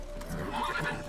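Roach, the horse in The Witcher 3, gives one short, close neigh with a wavering whinny, heard alone with faint hoof clops beneath.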